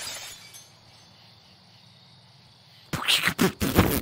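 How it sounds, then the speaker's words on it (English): Window glass smashed in a video game: after nearly three seconds of low ambient hum, a sudden loud burst of shattering and clinking glass breaks out close by, with several sharp crashes in quick succession. "So, yeah, someone just smashed my window."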